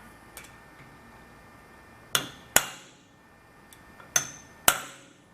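A hammer taps a seal into a Bobcat SS175 hydraulic cylinder: faint light ticks followed by two pairs of sharp metallic strikes, close and clear in a quiet room.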